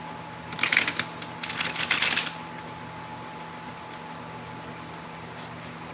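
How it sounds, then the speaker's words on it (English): A deck of playing cards is shuffled up close in two quick bursts of crisp riffling and fluttering, separated by a short pause, followed by a quiet background hum. "So let me give it a little shuffle."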